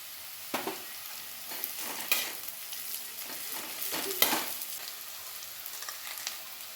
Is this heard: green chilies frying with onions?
yes